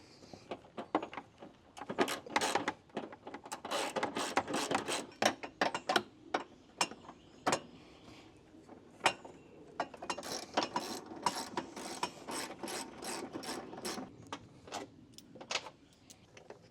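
Bolts come out of a K&N cold air intake housing to the sound of a ratchet clicking in quick, uneven bursts, close and crisp, with brief pauses between runs.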